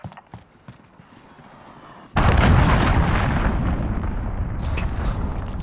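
Cruise missile explosions in a Call of Duty Modern Warfare match: a loud, sudden blast hits partway through and leaves a dense, sustained roar of rumbling detonation with crackling debris, following quieter in-game ambience.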